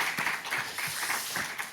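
A church congregation at a Korean Sunday Thanksgiving worship service applauds, a dense, sustained burst of many hands clapping together in a reverberant hall, loud and continuous with no talking over it.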